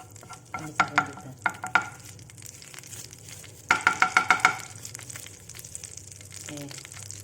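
Garlic sautés in a pan with a soft sizzle while a spatula scrapes and taps in two quick bursts of rhythmic clatter, with faint voices in the background.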